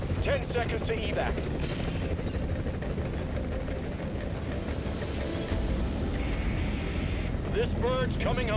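Helicopter in The Division 2 lifts off and flies away from an evac, its continuous rotor roar filling the scene under intermittent game voice chatter.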